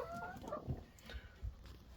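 A laying hen clucks softly in a backyard coop, a few short, low clucks spaced irregularly over faint background noise, fairly close but quiet.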